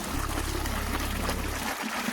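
Irrigation water flows along a channel through a farm field, a dense and steady close-up rush of running water that lasts the whole short moment without a break.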